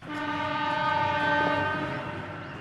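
A cartoon train blasts a long, steady, harmonic horn over a low rolling rumble of rail noise, loud and close, with no voices.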